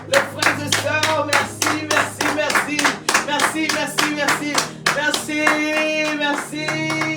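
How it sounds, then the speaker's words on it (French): Church congregation at a Sunday service claps in a steady rhythmic beat, close and loud, with singing or voices running alongside the clapping throughout. "Applaudissons pour la gloire de Dieu."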